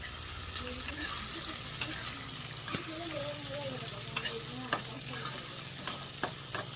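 Nigella seeds tossed into hot oil left over from frying fish sizzle steadily in the pan, with a few sharp clinks of a utensil against the pan over the constant hiss.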